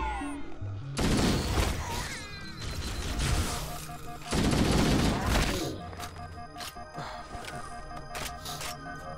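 Bursts of automatic gunfire in the video game Halo CE during multiplayer play, two loud dense volleys separated by quieter game sounds and scattered shots.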